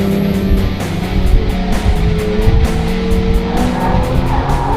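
A 2012 Porsche 911 (991) sweeps through a slalom, its engine note shifting under load while tires squeal and scrub in rapid alternating bursts, loud and near, with no voices.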